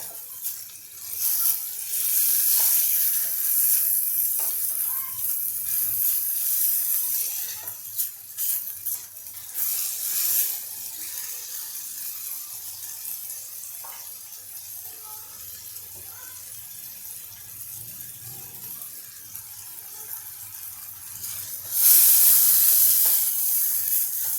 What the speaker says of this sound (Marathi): आता माझं हे वाटण छान सातावून झालं आहे